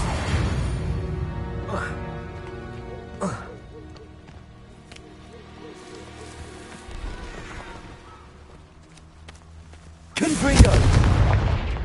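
Blasting-spell explosions from combat in Hogwarts Legacy, a few booming bursts scattered through game music and effects, with a large loud blast near the end.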